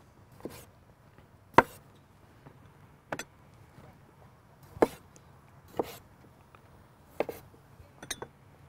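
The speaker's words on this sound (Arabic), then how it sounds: "البصل والطماطم هقطعها حنصاص هتاخد شويه وقت" Onions and tomatoes sliced in half on a cutting board, about eight sharp knife thuds spaced irregularly over a quiet background, close and distinct.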